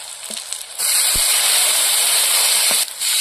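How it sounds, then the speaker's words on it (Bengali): Water poured into a hot frying pan of fried garlic and sliced green chillies for a prawn and spinach curry erupts into a loud, steady sizzle and hiss that holds for a few seconds, then briefly dips and resumes. "ভাজা হয়ে গিয়েছে, এবার জল দিয়ে দেবো।"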